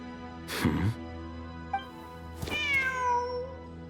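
A cat in the video game Genshin Impact gives a drawn-out falling meow after a burst of noise and a small click, with a steady hum underneath.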